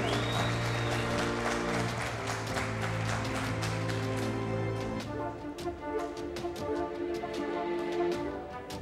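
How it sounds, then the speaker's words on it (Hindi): Audience applause at the Elite National Boxing Championship, a steady patter of many hands clapping in a large hall, mixed with a sustained tonal hum that fades midway. "भरपूर तालियां बजाकर इनके हौसलों को बुलंद करें।"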